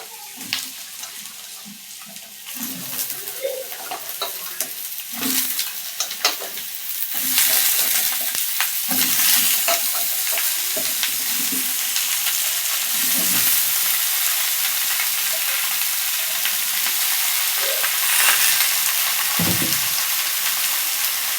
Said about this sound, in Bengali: সব সবজিগুলো দিয়ে দেবো এবার।